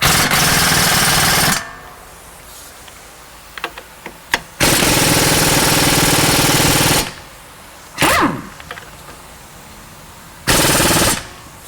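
An impact wrench removes strut bolts on a Toyota Camry, firing in loud sustained rattling bursts, three long runs and a short one, separated by quieter gaps with clinks of metal.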